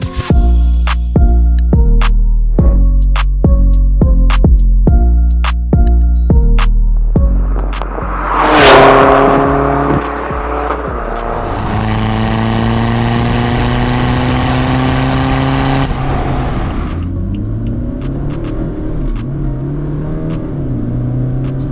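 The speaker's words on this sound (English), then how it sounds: "This is Madras Driven's India's fastest Stage 2 320D" Stage 2 tuned BMW 320d diesel accelerating hard, with rising engine revs climbing through several gear changes, a loud whooshing pass-by, then a strong sustained drone under acceleration; no talk, engine alone throughout.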